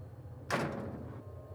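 A security door slams shut once in a FNAF-style horror video game, a sharp, fairly loud mechanical thud that fades over the next second against a low background hum.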